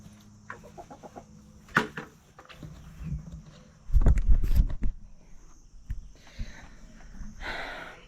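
Laying hens cluck and murmur close by in a backyard coop during morning feeding, with a few louder bursts and some shuffling between the softer calls, no talk.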